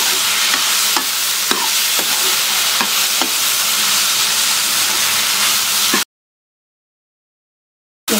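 Okra and onion sautéing in a hot oiled pan for a Tamil pachadi side dish, a steady loud sizzle with intermittent stirring clicks, running alone for about six seconds before cutting to silence.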